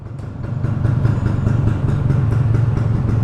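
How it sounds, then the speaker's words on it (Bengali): A motorcycle idles close by at a paid parking spot in a Bangladeshi lane, its engine putting out a steady, loud, rapid, even chug with no talking. "বাইক রাখবো"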